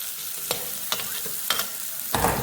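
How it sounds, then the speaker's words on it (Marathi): Spatula strokes stir a stuffing mixture for stuffed capsicum (shimla mirchi) in a pan, sautéing it with a soft sizzle. The scrapes come as separate swishes about every half second, close and fairly quiet, with no voices. "आपण जे आज स्टफिंग केलं ते सगळं यामध्ये घालायचं आहे आणि परतायचं आहे।"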